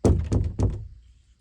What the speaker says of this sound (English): Knock, knock, knock. Who's there?